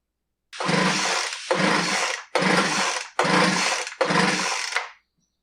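A Poulan Pro BVM200VS leaf blower being pulled to start but not catching: five loud, broadband bursts of about a second each in quick succession, each dying away without the engine running on, with no voices.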